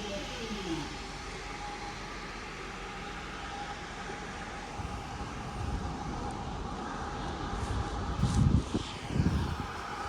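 An ex-West Midlands Railway Class 323 electric train, unit 323 210, idles at Wilmslow station with a steady low rumble and hiss, swelling into louder mechanical surges near the end.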